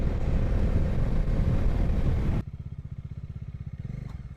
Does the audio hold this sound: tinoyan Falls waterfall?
no